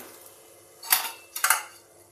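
A cooked snack being moved onto a plate: quiet room, then two short clinks of utensil against dish about half a second apart, close and crisp.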